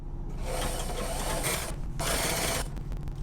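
A sewing machine stitches a boat cushion's top panel to its side panel, a steady close mechanical whir with brief pauses and a quick rattling burst near the end.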